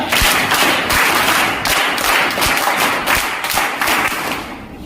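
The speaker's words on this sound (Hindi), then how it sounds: "एक साथ ऊपर ताली बजा" A group of scouts and guides at a training session clap their hands together in unison, a loud, dense burst of sharp overlapping claps that holds steady for several seconds with no talking.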